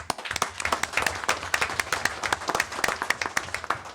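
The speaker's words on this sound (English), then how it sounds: "you guys also deserve a round of applause" Applause for volunteers at a town council meeting: a steady round of many hands clapping in a hall, dense and even for the whole stretch, with no voices over it.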